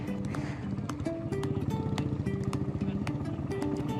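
A motorcycle rides over rough, unpaved terrain in Sri Lanka, its engine droning steadily and shifting in pitch, with bumps and rattles scattered throughout.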